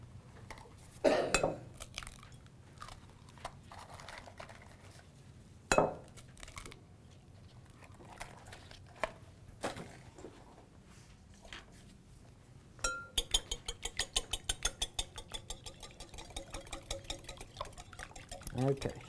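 Eggs whisked in a bowl: a few scattered clinks at first, then a fast, steady run of light metallic ticks from rapid whisking, close and quiet, with a voice speaking in the gaps.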